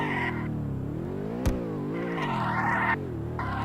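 BMW sliding sideways while drifting in Roblox Horizon, a continuous engine note rising and falling with the throttle, a sharp knock partway through and tyre noise during the slide, no voices.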